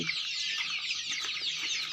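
Desi chickens and chicks cluck and cheep in a dense, overlapping chorus of high chirps, close by and continuous, with no voices.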